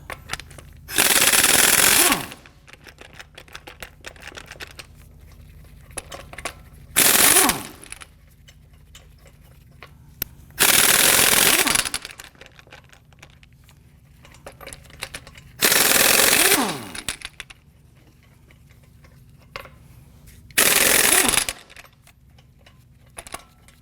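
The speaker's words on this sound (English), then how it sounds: "Using our 22mm socket, we're going to loosen and remove our lug nuts." An impact wrench with a 22mm socket rattles off lug nuts on a Ford F-150, five loud separate bursts of rapid hammering, each a second or two long, with quiet pauses between.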